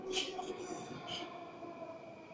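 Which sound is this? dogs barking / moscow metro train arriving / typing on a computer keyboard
moscow metro train arriving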